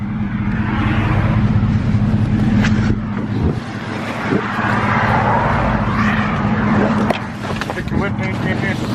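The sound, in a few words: pickup truck driving while hitchhiking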